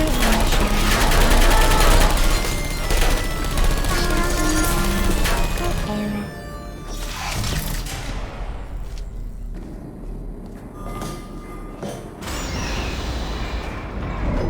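Turret gunfire in Portal 2 rattles through a dense, loud game soundscape, with sustained bursts over the first six seconds, then a quieter stretch broken by further mechanical clatter and thumps.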